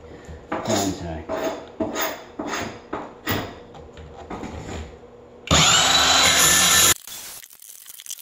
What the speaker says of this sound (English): set my saw so it doesn't cut into the subfloor. I'm gonna cut a couple of strips and pull it out.